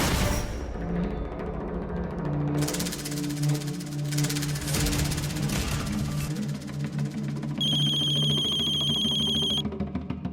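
A telephone rings during a tense TV crime drama scene: a bright, electronic ringing tone repeats for about two seconds near the end, over layered dramatic background music with no speech.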